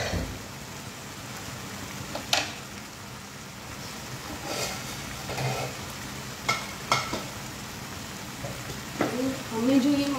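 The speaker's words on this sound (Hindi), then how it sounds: "गैस फास्ट कर दी है यहाँ पर तो अच्छे से उसकी भुनाई हो जाएगी।" Masala roasting and being stirred in a pan over high gas, a soft continuous sizzle punctuated by sharp scrapes and clinks of the spoon at irregular moments, with a brief voice near the end.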